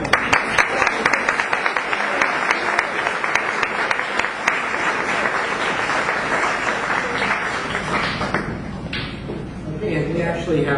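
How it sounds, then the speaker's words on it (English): Audience applause at a peace essay contest awards event in Modesto, California, honoring a finalist: sustained, dense clapping from a room full of people that carries steadily through the clip and thins slightly near the end. "nice round of applause for the article"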